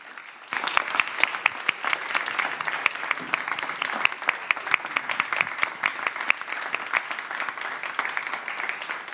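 An audience at a graduation event applauds steadily for several seconds, a dense, even patter of many hands clapping that starts abruptly and holds at a moderate level.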